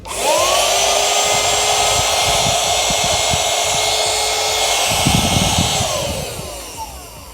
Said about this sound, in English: This is a bagless vacuum cleaner, as you can see. Let's turn it on.